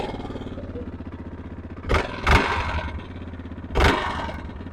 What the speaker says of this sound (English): A little noise in that motor.